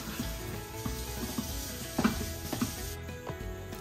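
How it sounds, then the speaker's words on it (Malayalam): Tomatoes and green chillies sautéing in a pan give a steady close sizzle and frying hiss, with scattered stirring scrapes and small clinks throughout and no talk. "തക്കാളി ചേർത്ത് നമ്മൾ നല്ലപോലെ വഴറ്റിയെടുക്കുന്നുണ്ട്"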